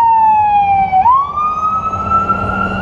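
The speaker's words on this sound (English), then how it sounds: "That's a spiritual thing with all these sirens going around" A single emergency vehicle siren wails loudly outside, holding a steady tone that dips, then sweeps up and settles into a sustained high wail, with faint traffic rumble beneath and no talk.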